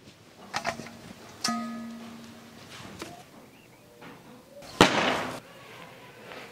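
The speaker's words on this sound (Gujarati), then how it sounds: "બહાર તો ફટકજેનો અવાજ આવે હે" Scattered sharp pops and bangs of Diwali firecrackers at a distance, a few isolated cracks with one louder burst near the end, amid faint background noise.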